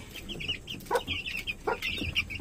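Chicks feeding on termites, with soft overlapping cheeps and clucks of young poultry repeating close by throughout, no talk.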